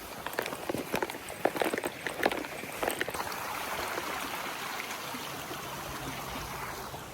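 Flowing river water murmurs steadily during a spot of trout fishing, with a few irregular splashy or footstep-like knocks early on before the rushing stream settles into a constant broadband wash.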